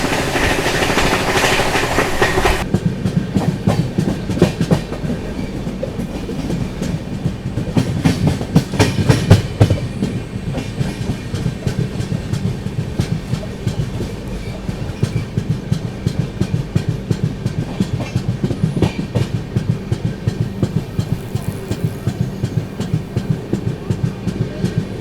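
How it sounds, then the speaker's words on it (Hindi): The Grand Trunk Express, running MGR Chennai Central to New Delhi, speeds along with a steady clickety-clack of wheels over rail joints, heard from inside a coach, opening with a brief louder rush. "अपनी जीटी एक्सप्रेस यार, क्या भाग रही है गाड़ी।"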